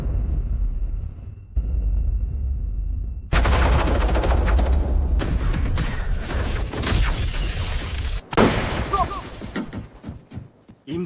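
A ship's cannons and guns fire in a sea battle, with a low rumble giving way to dense bursts of loud gunfire and heavy impacts, followed by scattered sharp shots.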